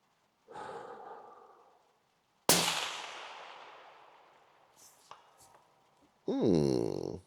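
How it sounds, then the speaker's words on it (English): A single sharp rifle shot fired outdoors during ballistic testing cracks loudly, then trails off in a long rolling echo, surrounded by quieter breathy and handling noises. "Let's just shoot one more for fun."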